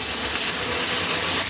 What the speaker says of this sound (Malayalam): പുരട്ടി വെച്ചിരുന്ന വഴുതനങ്ങയും കൂടി ഇട്ട് കൊടുത്ത് വറുത്തെടുക്കാം